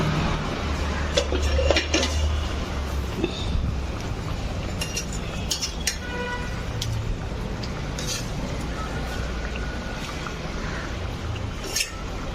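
A heavy cooking pot being handled while fish curry is emptied out, with metallic clanks and scraping against a steady background hum, close and moderately loud, with no talking heard.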